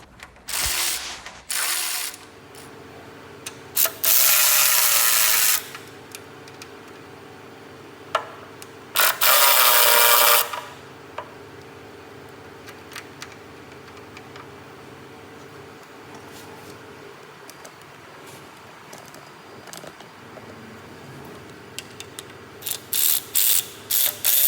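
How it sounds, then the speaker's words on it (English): Ratchet clicking while removing oil pan bolts on a small-block Chevy 350 engine, several bursts of rapid pawl clicks with louder whirring runs and short ticks between, close and alone. "you have to remove the first 4 oil pan bolts"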